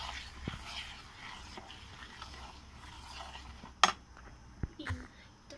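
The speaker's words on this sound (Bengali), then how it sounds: "চিনিটাও এর মধ্যে ভালো করে মিশিয়ে নিতে হবে।" Sugar being stirred into mango semolina cake batter in a bowl: faint, soft scraping and mixing, with a few sharp utensil clinks against the dish near the end and no talking.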